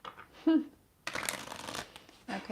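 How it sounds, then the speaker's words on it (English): Deck of cards being shuffled close up, a quick riffling burst lasting about a second, followed by a shorter second shuffle, with brief speech just before. "We're gonna shuffle these cards and find out more."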